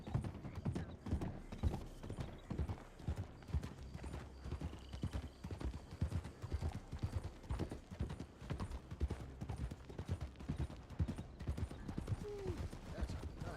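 Horse hooves clip-clop steadily and continuously in a Red Dead roleplay video game, a brisk rhythmic trot with a faint whinny, mechanical creaks and a speaking voice mixed in.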